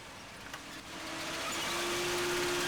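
A World War Two German tank engine in the Arma 3 video game drones steadily, swelling gradually louder with a sustained whining tone over a low rumble.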